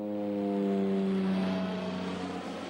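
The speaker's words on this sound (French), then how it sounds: "Les survols des avions ne semblent pas la déranger." Low propeller-like drone of an airplane flying over a crowded shantytown beside airport runways at Faa'a, a loud, steady engine hum with shifting tones that fades slightly toward the end.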